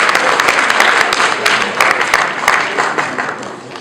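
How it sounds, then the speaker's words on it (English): An audience at an engineering awards ceremony applauds, a dense steady clapping from a crowd that carries on for several seconds at moderate volume. "I think you guys need to give yourself a round of applause"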